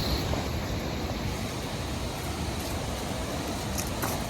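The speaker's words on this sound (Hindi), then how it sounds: "इधर ये बहुत ही शानदार झरने का अलौकिक दृश्य।" A mountain waterfall near a Himalayan temple, with pilgrims bathing below, roars as a steady, dense wash of broadband rushing water throughout, fairly distant and unbroken.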